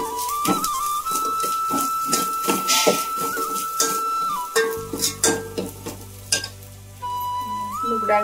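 Mustard-seed tempering with turmeric, chili and raw moong dal sizzles in hot oil, a steady frying hiss broken by repeated stirring scrapes and clinks of a spoon against the pan, with a whistle-like tone running through.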